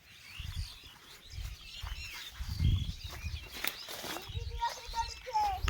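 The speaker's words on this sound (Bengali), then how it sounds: "সব অনেক পাখি রে" Several birds chirp and tweet outdoors on a farm with goats around, the calls light and scattered at moderate distance over low rumbling background noise.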